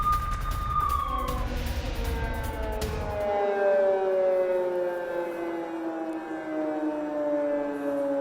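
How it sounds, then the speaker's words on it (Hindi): Air raid sirens wail across Kyiv, Ukraine during a Russian missile and drone attack, with several long, slowly falling tones overlapping in the distance after an opening stretch of low rumble. "सायरन सुनाई दे रहे हैं।"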